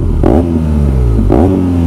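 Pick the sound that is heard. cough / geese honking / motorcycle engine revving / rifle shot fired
motorcycle engine revving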